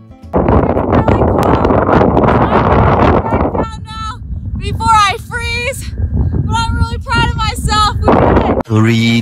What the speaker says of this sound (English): it's snowing, and it's super windy